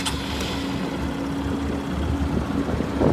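Engine of a 2012 Honda CBF 125 motorcycle with 3,000 miles running at a quiet, steady idle, a low even hum heard close with no talking.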